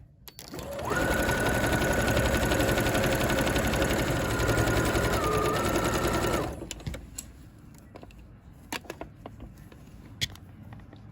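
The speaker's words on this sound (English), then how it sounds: "I'm starting my stitching here at the midway point of my collar section" A sewing machine stitches a coat collar section for a Simplicity 8797 coat, running in one steady, loud burst of about five and a half seconds before stopping, followed by faint handling clicks and taps.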